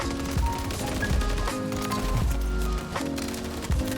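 Rapid automatic gunfire in Warzone as a player shoots at bots, with close, loud bursts crackling in quick succession and brief pauses between strings of shots.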